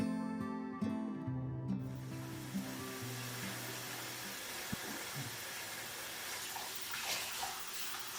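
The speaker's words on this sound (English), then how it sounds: "That's the sound of our dog walking around in like an inch of water." A dog walking through about an inch of standing flood water, making soft, scattered splashes amid a continuous watery background, with steady hum and occasional louder slaps toward the end.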